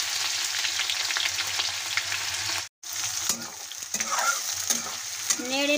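Chopped onion sizzles and crackles in hot soybean oil with cinnamon, bay leaf and cumin, a steady close frying hiss with a brief break and some stirring scrapes, no voices.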